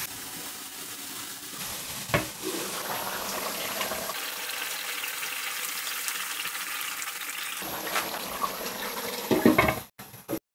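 Golden-brown fried onion tempering hits cooking duck for duck bhuna with a sharp burst of loud sizzling, settling into a steady close hiss and crackle before a final clatter.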